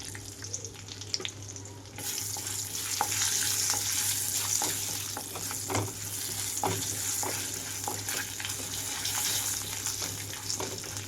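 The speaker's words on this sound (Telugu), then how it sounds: "ఆయిల్ వేడయ్యాక తాలింపు గింజలంతా వేసుకుంటున్నాను ఇందులోనే" Tempering seeds and asafoetida fry in hot oil for a radish chutney, with a continuous close sizzle dotted by small pops and crackles that swells once the seeds hit the oil.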